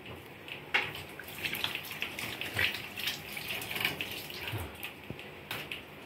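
Water runs steadily from a tap while hands are washed, a continuous splashing hiss with small irregular bursts and drips, fairly close and alone without talk.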